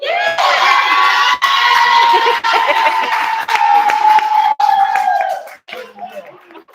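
A crowd cheers and shouts loudly, with scattered clapping, the roar holding for several seconds before fading into murmurs.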